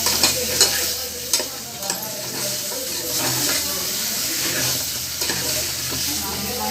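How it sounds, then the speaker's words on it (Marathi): Paya soup stirred while it fries in a pan at home, a loud steady sizzle and hiss with a few scraping utensil knocks early on, close and without talk. "हलवून घ्यायचं सगळं, हलवून घेऊन"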